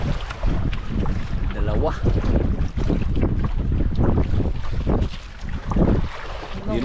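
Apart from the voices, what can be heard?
wind at sea on a fishing boat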